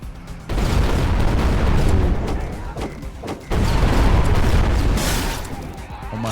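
Sustained, dense roar of a minigun firing nonstop in the boomer-shooter game Project Warlock, loud and continuous with a short break mid-burst before resuming.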